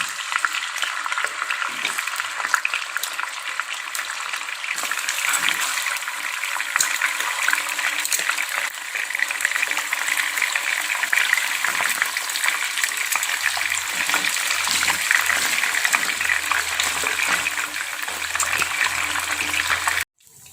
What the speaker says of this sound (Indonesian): Lalu kita goreng ikan nilanya ya